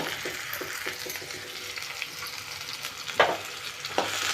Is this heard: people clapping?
no